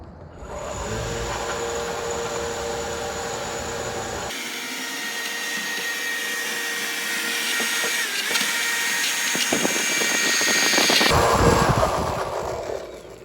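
A Ryobi leaf blower attachment roars steadily for the whole stretch, its pitch shifting midway as it blows leaves and debris clear, with a louder surge near the end.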